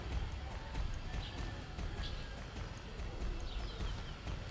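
Horse hooves clip-clop in the Star Stable video game, with soft, steady footfalls under a constant ambient wash, faint and a little distant.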